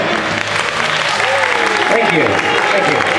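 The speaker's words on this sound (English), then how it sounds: "Applause for yours truly." Applause from riders aboard a theme park movie ride at Disney's Hollywood Studios, a sustained wash of clapping with voices and a performer's talk mixed in.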